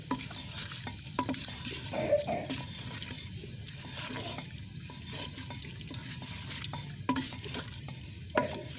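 Meat is stirred with ghee in a pot for katwa gosht, a wedding-style mutton dish, giving a steady sizzle under repeated scraping and clanking of a spoon against the pot, close and continuous, with no talking.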